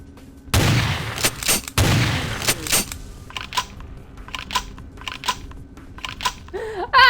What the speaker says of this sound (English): Sometimes you walk through a building and all you can hear is gunshots